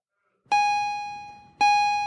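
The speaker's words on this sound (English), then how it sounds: "And the bell rang, and Janine left." A school bell strikes twice, each a bright metallic ding that rings out and slowly decays, the second following about a second after the first, alone in quiet.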